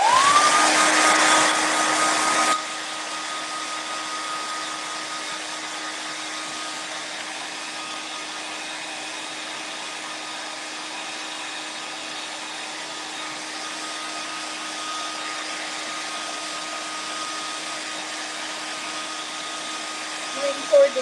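A handheld heat or air dryer blows steadily over IOD paint inlays on Christmas signs, a loud continuous whooshing roar with a constant whine. It runs close and unbroken for the whole stretch after a brief louder opening.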